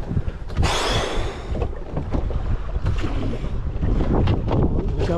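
Strong wind gusts roar and buffet a microphone at a carp lake while out on a boat, with a steady rushing roar and water sloshing close by.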